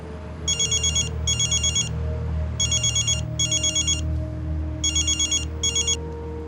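A phone ringtone plays in repeated short bursts of bright electronic tones, pausing between rings, over a low background hum.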